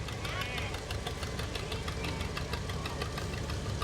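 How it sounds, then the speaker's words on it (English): The engine of an International 404 tractor putters in a fair parade with a steady, rhythmic knock. The sound is faint and comes through crowd noise. "And the International 404. Nice tractor."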